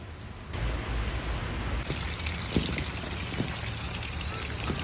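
Steady monsoon rain falling outdoors, a continuous broadband patter with occasional heavier drips and splashes close by, no voices.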